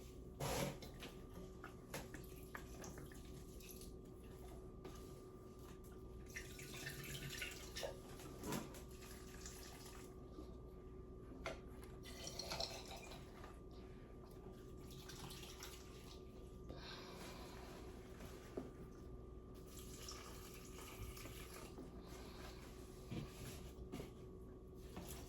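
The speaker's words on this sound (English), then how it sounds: "We're gonna water these plants as well as the ones in the living room." Tap water running to water houseplants indoors, a faint, steady hiss of flowing water with occasional splashes and small clatters, quiet and ongoing throughout.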